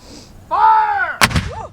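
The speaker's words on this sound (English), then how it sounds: "shooting guns and shooting cannons and stuff" Living history artillery and musket firing on the Bull Run battlefield at Manassas: a single loud cannon blast rings out after a brief sustained tone, followed by shorter cracking reports and echoing rumble fading away.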